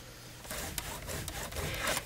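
A scoring tool runs along the 6 1/4 inch side of a sheet of paper on a personal cutter for a candy purse, making faint, close scraping and rubbing strokes in a short series.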